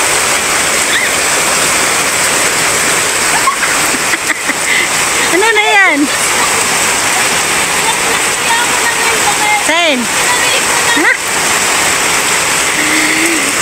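Heavy rain pours steadily and loudly in a rural Bicol province yard, a dense unbroken hiss with splashing throughout, while a few voices speak briefly over it.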